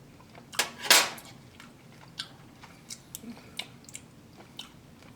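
Chewing and biting while tasting a Filipino-style hot dog sauce, with one loud wet bite near the start and then a run of small, soft, scattered mouth clicks and chews up close.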